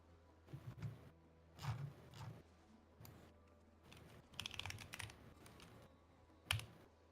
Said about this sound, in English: I like the sound of my keyboard